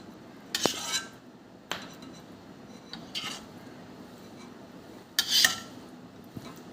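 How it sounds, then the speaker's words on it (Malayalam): A few scattered clinks and light scrapes of a utensil against a bowl as wheat, rice and moong dal payasam is served, with quiet gaps between the sharper knocks and no talking. "അത് ഞാൻ ബൗളിൽ പകർത്തി കാണിച്ചു തരാം"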